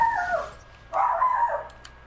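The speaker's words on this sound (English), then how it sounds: "are you hearing my dog bark?" A dog barks and whimpers indoors after a doorbell ring, two short yelping bursts close to the microphone with a quiet gap between.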